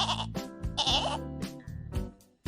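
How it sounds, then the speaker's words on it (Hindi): A goat bleats several times in close succession, loud and near, with short wavering calls separated by brief gaps. "इतना कहते ही बाहर से बकरी उसको आती हुई दिखाई दी।"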